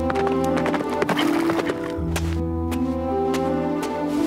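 Galloping horse hooves in an animated cartoon adventure series thud in a quick, steady rhythm under a sustained musical score, with sharp percussive strikes scattered through.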